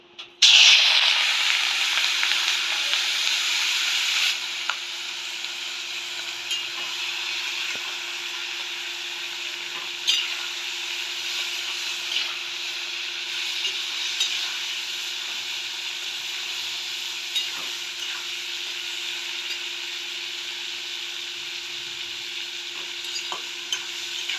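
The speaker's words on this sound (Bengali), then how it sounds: "মাছগুলো একটু হালকা ভেজে নেবো" Prawns lightly frying with salt and turmeric in a hot kadai, opening with a loud burst of sizzle as they hit the oil, then settling into a steady, hissing fry with occasional stirring scrapes; no speech.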